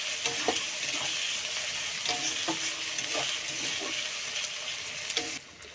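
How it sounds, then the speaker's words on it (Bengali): Ginger-garlic paste stir-fried in a hot pan for a Bengali chicken and jackfruit curry gives a steady sizzle throughout, with the scrape of a spatula stirring at regular intervals, close and alone until it cuts out near the end. "আদা রসুন যাতে কাঁচা গন্ধ না ছাড়ে তার জন্য ভালো করে নেড়ে নেড়ে ভেজে নেব।"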